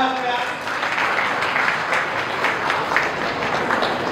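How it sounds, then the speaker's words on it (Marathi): An audience at a Sant Savta Mali death-anniversary ceremony claps loudly, dense sustained applause filling the whole stretch with a voice briefly at the start. "जोरदार एकदा टाळ्या वाजवूया."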